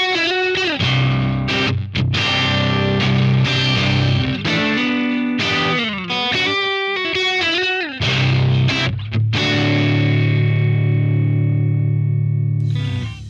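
An electric guitar, a Strandberg Boden Classic 7 on its neck single-coil pickup, plays loud sustained chords and short riffs with a warm, slightly driven tone, phrases separated by brief pauses and a fading final ring.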